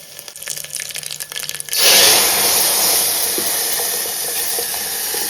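After a few quiet clicks, tempering spices hit hot oil and burst into a loud, sustained sizzle that slowly settles but keeps hissing to the end.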